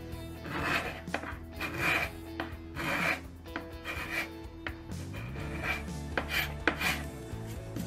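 A paint scraper is pushed repeatedly along a wooden board, making rhythmic rasping strokes, each a short scratchy burst, close and fairly loud, with about a dozen strokes.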